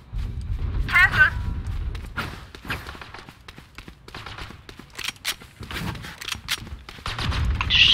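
Bursts of gunfire from the Valorant video game, sharp shots and short volleys scattered across the round with footsteps and thuds between, mixed under a player's talk.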